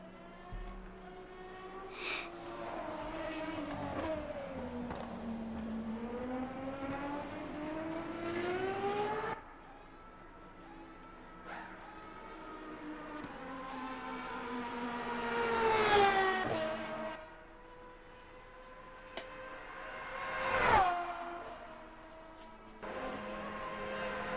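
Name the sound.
roar of race car engines in a sim racing game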